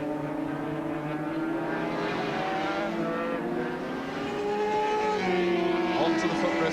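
A Norton racing motorcycle leads the field at Cadwell Park in a 1988 race, its engine a steady loud drone with rising and falling pitch as it passes, with commentary over it.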